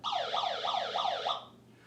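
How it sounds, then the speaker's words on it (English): A toy vehicle's electronic siren wails in a rapid repeating up-down sweep, about four cycles, loud and close, then cuts off abruptly. "Or there's a siren on there."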